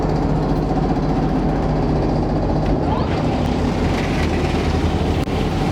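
A chopper pump runs in a shop, a loud continuous mechanical drone with a low rumbling hum that deepens slightly partway through.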